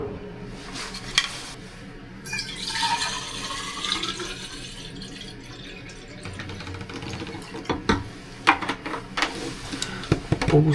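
Water is poured to refill a container at home in Japan late at night. Bursts of splashing and gurgling come close by, broken by short clunks and handling noises.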